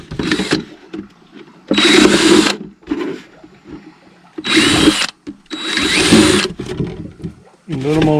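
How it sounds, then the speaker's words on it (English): Power drill boring holes around the top of a plastic milk jug in short, loud bursts separated by pauses, with a brief voice at the very end. "I'm just gonna drill a hole"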